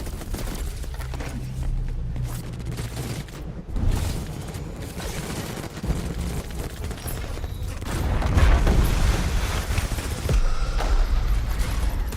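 Enemy gunfire in Crackdown 3, dense volleys and booming blasts rolling steadily through the battle mix, swelling louder toward the end with little talk.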